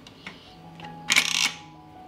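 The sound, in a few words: closing the lid of a pressure cooker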